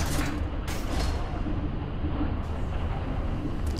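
Door mechanism grinding open in the horror video game Saw, a continuous creaking, ratcheting mechanical rumble that stays steady and fairly loud for the whole stretch with no voices over it.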